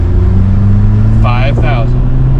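A VW Jetta 1.8T engine revs loudly in second gear as a steady, close, droning tone, with a short burst of speech breaking in over it midway.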